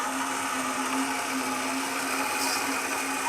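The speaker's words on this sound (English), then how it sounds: "I'm very happy with this bandsaw." A metal-cutting bandsaw slices 3/4 by 1 1/4 inch 1018 mild steel bar at 300 surface feet per minute, giving a steady, even whine and hiss with a constant tone, loud and unbroken, with no talk.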